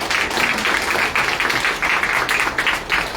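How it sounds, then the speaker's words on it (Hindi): Audience clapping at a DXN business seminar, loud bursts of applause in a hall that rise and dip in short waves across a few seconds. "मैं कहूँगा कि 2 बार ताली बजाइए।"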